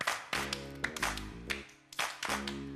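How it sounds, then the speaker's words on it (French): Hands clap in a steady rhythm in a children's cartoon song, with several sharp, distinct claps over a light musical accompaniment. "Entends-tu ma main qui frappe?"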